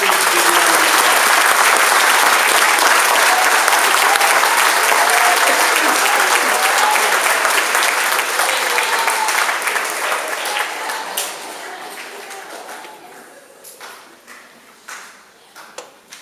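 Loud, sustained applause from a crowd at a middle school sixth-grade awards ceremony, steady clapping that gradually thins out and fades into scattered claps near the end.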